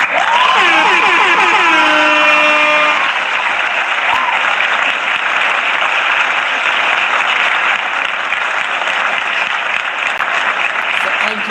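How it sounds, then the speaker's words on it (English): An applause sound effect starts with a blaring, wavering air horn, then gives way to loud, continuous crowd clapping and cheering that holds steady to the end. "We have to give Andrew Holness a round of applause."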